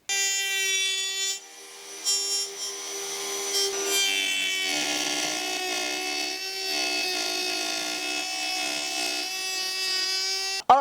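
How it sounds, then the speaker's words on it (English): A router fitted with a flush trim bit trims the edge of a wooden tray, a steady high-pitched whine with a brief dip early on and a sharp cut-off at the end, close and without speech. "Now we're gonna clean it up with the flush trim bit on the router."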